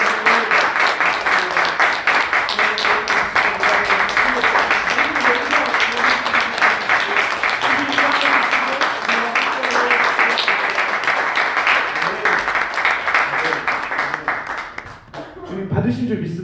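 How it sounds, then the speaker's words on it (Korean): Church congregation applauding together in a long, dense burst of clapping that stays steady for most of the stretch, then fades out near the end. "함께 오늘 하나님께 감사와 영광의 박수 올려드립시다."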